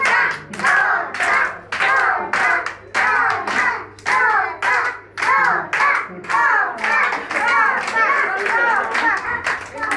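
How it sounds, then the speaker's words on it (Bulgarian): Children at a birthday party clap their hands in a fast, loud, steady rhythm, a group of small hands beating together close by with excited young voices mixed in. "Пляскаме силно и викаме торта."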